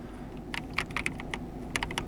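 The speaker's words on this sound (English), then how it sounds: "basically when we press some key on our keyboard, it gets" Keys pressed one at a time on a Logitech G316 X keyboard while testing it, giving a series of sharp, close clicks in an irregular rhythm over steady low background hum.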